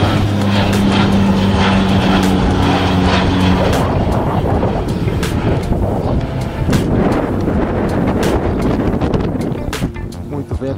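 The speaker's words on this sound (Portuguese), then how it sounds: "os táxis aéreos aqui pousam e decolam constantemente aqui na cidade de Sorocaba" An air taxi airplane runs near Sorocaba airport, its steady propeller drone loud and close for the first few seconds, then fading into heavy wind rumble buffeting the microphone.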